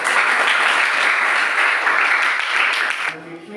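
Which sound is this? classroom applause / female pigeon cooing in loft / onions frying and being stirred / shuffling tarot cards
classroom applause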